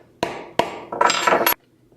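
A hammer strikes a medium rivet setter to set rivets in leather, giving two sharp metallic blows and then a quick ringing flurry of taps, close and loud in a quiet room.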